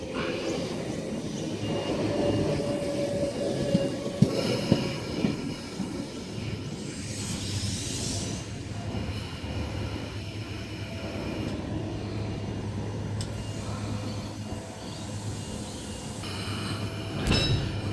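A Sydney S-set train, S123, departs a platform on a Clyde service, its rumbling motor and rolling wheels building into a steady, fairly close drone with occasional squeals and clunks, and no voices.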